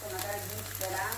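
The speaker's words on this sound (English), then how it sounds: "this is my fried rice. As you can see, I'm frying it now." Fried rice fries in a pan, giving a steady crackling sizzle throughout with a faint low hum underneath and some quiet voice-like sound mixed in.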